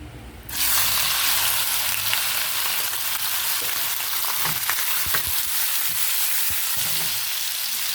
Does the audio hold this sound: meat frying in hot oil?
yes